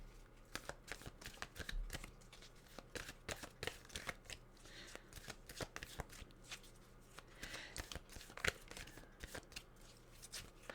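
Tarot cards are shuffled in a long run of quick, crisp riffles and flicks, close and fairly quiet, in uneven bursts with brief pauses between them.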